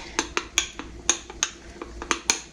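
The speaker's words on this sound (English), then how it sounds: "I'm going to get to whisking this" Whisk strikes against a bowl while mixing custard for a coconut cream pie, a series of about eleven sharp, bright clinks at an uneven, brisk pace, heard up close with no voices.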